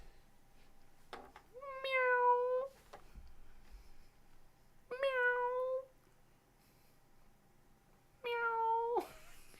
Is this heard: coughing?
no